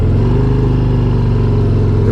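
A 2023 Harley-Davidson Street Glide ST with a big 117 cubic inch V-twin revs loudly and close, a deep throbbing engine note that stays strong and steady throughout.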